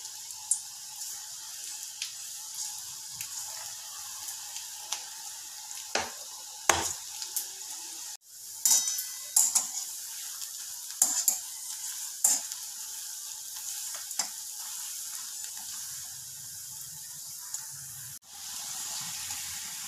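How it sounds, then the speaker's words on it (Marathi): Bhaji fritters for a Maharashtrian meal frying in hot oil, a steady soft sizzle throughout with occasional stirring clinks and scrapes close by. "आता आपण भजी ह्या तळून घेऊयात। हळूहळू तेलात सोडूयात। आणि व्यवस्थित फ्राय करून घेऊयात."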